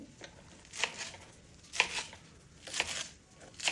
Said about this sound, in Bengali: ধনে পাতাগুলোকে খুব ভালো করে বেছে নিয়েছি এখন একটু ছোট ছোট করে কুচি করে নেই